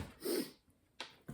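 A single close, breathy sneeze bursts out, followed by a couple of short sharp sniffs or exhales.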